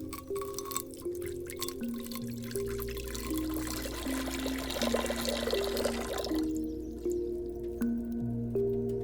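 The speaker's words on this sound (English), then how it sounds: "First, pour it into the cauldron." Water pours and trickles steadily into a cauldron, with splashing and dripping under sustained tonal hums and chime-like ringing.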